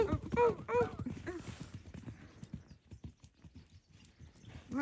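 Hooves of horses newly brought to a farm clop in an uneven, shuffling pattern, with a whinny or voices rising near the start before the steps carry on more softly.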